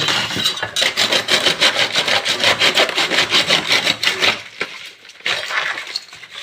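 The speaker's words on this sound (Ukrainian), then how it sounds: "А це ще зараз допіляю." A handsaw cuts through an old window slope during demolition, its strokes steady and rhythmic, loud and close. The sawing runs for about four seconds, then stops briefly before a final short stretch.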